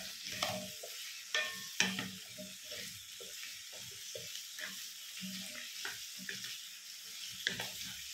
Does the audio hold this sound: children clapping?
no